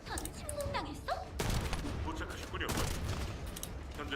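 Rapid video-game gunfire, bursts of shots aimed at a rock, with a reload, sounding loud and close, mixed with game effects and someone talking over it.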